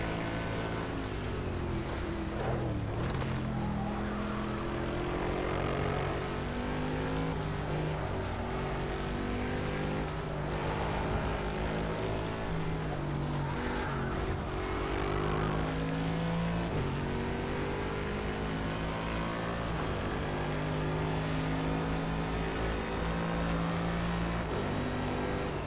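A race car engine in a racing video game drones low-pitched and steady, with shifting revs and some uneven traction-control stutter, loud and alone with no talk.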